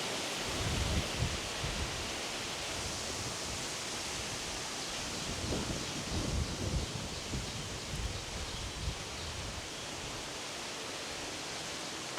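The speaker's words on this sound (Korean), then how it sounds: "요 며칠 지금 바람이 엄청 세게 불어요" Strong wind blows outdoors as a steady, broad rushing roar with gusty low rumbles, fairly faint overall and continuous throughout, with no voices.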